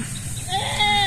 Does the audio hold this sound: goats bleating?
yes